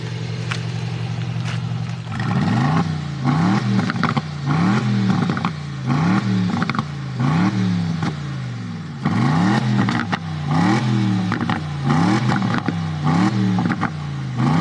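Aston Martin Vantage engine revved repeatedly from behind the car, loud rising and falling pulls answered by crackling exhaust pops, a steady idle first and then about a dozen rhythmic revs with no talking.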